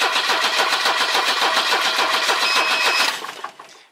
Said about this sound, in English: the motor does crank over, so it's not bad or anything